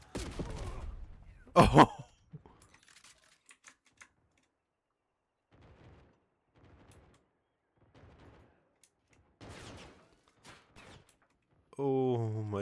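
A shotgun blast goes off in Call of Duty MWIII: one loud, sharp shot near the start, followed by quieter in-game sounds and brief exclamations from a player.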